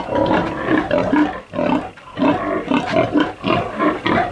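A farm sow grunts and snorts repeatedly up close, a loud rhythmic series of rough, throaty bursts with short pauses between them.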